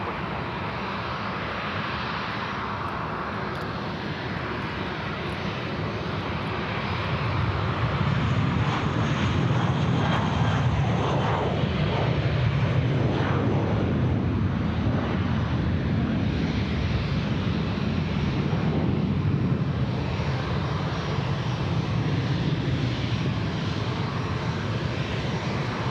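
An airliner lands at Sydney Airport on runway 34 left, its engines a steady, loud broadband roar that swells after several seconds and holds, with wind buffeting and no talk.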